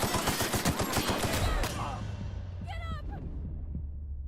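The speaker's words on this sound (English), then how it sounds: "They started shooting first." Rapid automatic gunfire from The Outer Worlds played on PS5: a loud rhythmic volley of shots that breaks off into ringing echoes, with a brief electronic game effect near the end.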